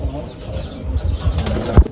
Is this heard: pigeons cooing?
yes